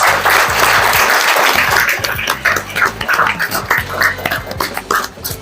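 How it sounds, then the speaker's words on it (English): A room full of people applauds immigrant parents at a gathering on 20 June 2024, sustained dense clapping that starts loud and gradually thins into scattered claps toward the end. "let's give them a round of applause"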